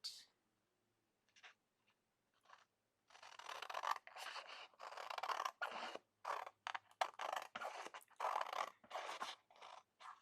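Scissors snip through paper while a calendar page is trimmed, a few isolated cuts early, then a run of quick, close, crisp snips and scrapes with brief pauses between strokes.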